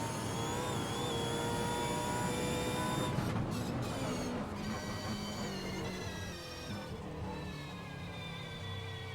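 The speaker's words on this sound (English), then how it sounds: "Let's listen to the engine as he downshifts for the last corner." A supercar engine in an AMS Oz Supercars racing sim at Barbagallo, a sustained tonal drone that drops in pitch through several downshifts for a corner, then holds a lower buzzing note.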